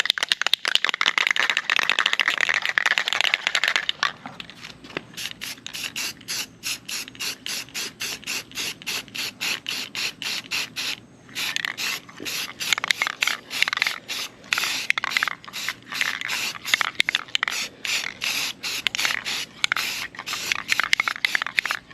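Shaking a can of Rust-Oleum semi-gloss spray paint: a fast, rhythmic clatter of the mixing ball that repeats over and over, with steady hissing bursts of spray at the start and again partway through, all close and loud, with no speech.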